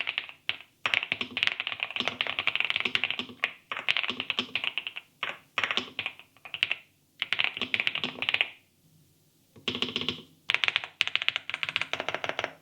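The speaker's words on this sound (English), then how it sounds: "so yeah, here's a little typing test." Bursts of rapid clicky keystrokes from a mechanical keyboard, close and crisp, with brief pauses between runs of typing.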